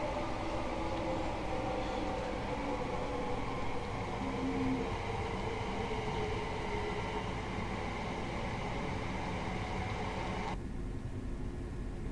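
Class 375 electric multiple unit running on the Strood to Maidstone West line in Train Sim 2020, a steady broadband rumble and hum of motors and wheels continuing throughout, dropping slightly in its upper hiss near the end.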